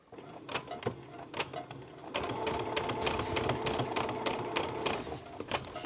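A sewing machine alternates straight and zigzag stitches while binding junk journal pamphlet signatures, starting in short close rattling bursts before settling into a steady, fast mechanical stitching run.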